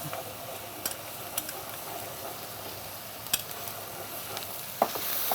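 Garlic and ginger paste fries with spices in a pan, a soft, even sizzle with scattered light clicks and scrapes of a spoon, close and quiet, no voices.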